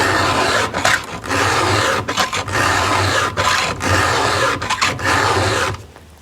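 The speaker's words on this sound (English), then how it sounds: "we're only filing in one direction. We're not pulling it back, we're pushing." A file is pushed across saw teeth in one direction only: a series of loud rasping strokes, each a second or so long, separated by brief silent gaps as the file is lifted and reset.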